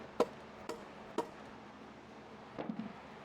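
A hammer whacks the turbo flange on a 6.0L Powerstroke diesel's Garrett VGT turbo to break it loose, three or four sharp metallic knocks spaced irregularly, close and alone.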